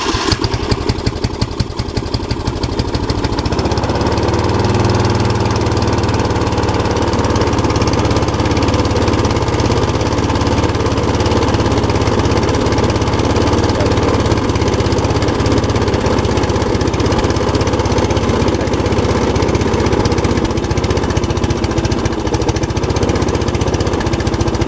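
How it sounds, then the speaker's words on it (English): An MTD riding lawn mower tractor fitted with a 36-inch snowblower has its choked engine cranked, catching after a few seconds and settling into a loud, steady, rattling idle that runs on alone. "choke the engine and press the button, my safety switch, and then turn on the key"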